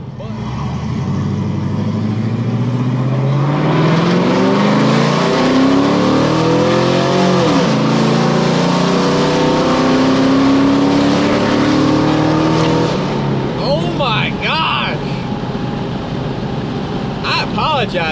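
A Vmax truck's engine roars loudly and steadily up close, its pitch climbing through a long rev before falling back, with rough idling bursts near the end.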